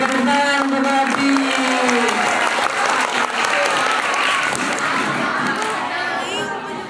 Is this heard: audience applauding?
yes